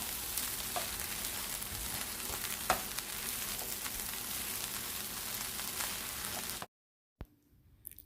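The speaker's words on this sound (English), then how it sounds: "Then give it a stir" Egg fried rice being stirred in a hot pan, a steady close sizzle with scraping stir sounds throughout that cuts off abruptly near the end, followed by faint quiet noise.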